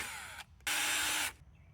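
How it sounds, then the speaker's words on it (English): A short high-pitched power drill whine bursts out twice, the second run longer, drilling out rivets close by in a quiet room. "now I have to drill out all of the rivets"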